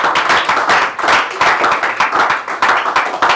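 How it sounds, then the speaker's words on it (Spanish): Church congregation applauding for Christ, a dense, steady wave of many hands clapping close and loud throughout, with no voices over it. "Dale un aplauso grande a Cristo."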